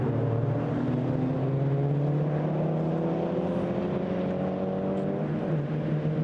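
Volkswagen Racing Cup race cars plunge downhill in a train at Spa-Francorchamps, their engines roaring together in a loud, continuous, steady drone with pitch slowly rising, no voices.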